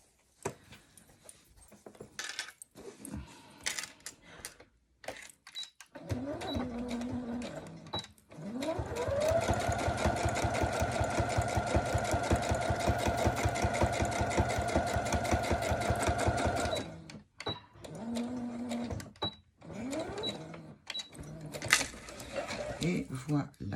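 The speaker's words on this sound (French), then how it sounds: "Je fais ma seconde couture." Sewing machine stitching a second seam on a fabric placemat set, a close, steady rapid mechanical chatter running for about eight seconds after a short start, framed by handling noises and someone speaking French before and after.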